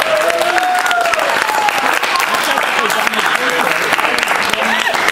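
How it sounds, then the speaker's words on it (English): An anime convention audience at an acting workshop claps steadily for two participants, dense applause filling the room for several seconds while people cheer and talk underneath. "Give Lynette and John a round of applause."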